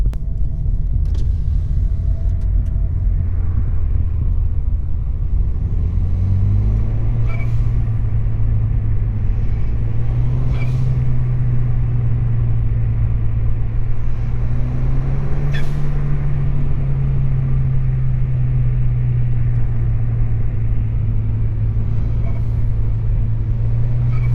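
Continuous deep engine rumble and loud intake roar from a Ford Fiesta ST with a DIY cold air intake, rising and falling as the car revs, loud and close throughout.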